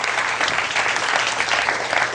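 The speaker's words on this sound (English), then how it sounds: "Give a nice round of applause, folks." Steady audience applause fills the whole stretch, dense and even, from a seated crowd at a hypnosis demonstration, with no voices over it.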